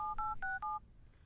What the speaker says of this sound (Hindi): एक काम करते हैं, नितिन को फोन लगाते हैं.